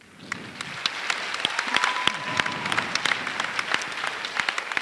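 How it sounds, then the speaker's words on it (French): Audience applause at a school talent-show event, a steady crowd clapping for a student performer that holds for the whole stretch, dense and fairly close, with no talk over it. "vous pouvez applaudir"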